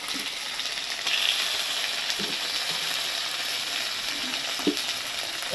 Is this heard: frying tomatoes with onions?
yes